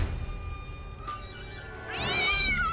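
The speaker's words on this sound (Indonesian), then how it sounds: "ternyata itu hanyalah kucing" A cat meows in a single drawn-out, rising and falling cry near the end, close and clear above a low background rumble, with faint tonal sounds earlier.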